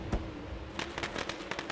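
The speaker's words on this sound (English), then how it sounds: "the fireworks not in the same place they should be" Fireworks go off after a dirt car race at a speedway, a sharp pop followed by a string of crackling bursts, fairly faint and at a distance.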